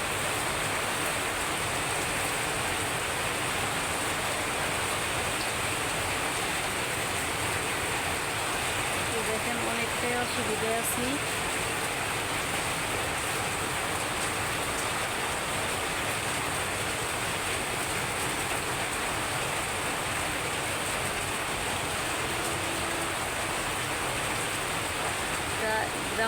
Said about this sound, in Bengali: দেখেন এই বৃষ্টি কখনো কমছে না, বরঞ্চ আরো জোরেই হচ্ছে